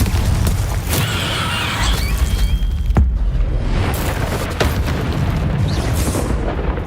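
A Confringo fire spell explodes in the game Hogwarts Legacy, its booming blast rolling into a dense roar of combat effects and sharp cracks that continue throughout.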